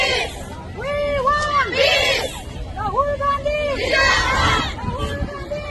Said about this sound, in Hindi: सड़क के दोनों तरफ कतारों में महिलाओं की भीड़